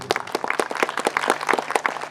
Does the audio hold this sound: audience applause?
yes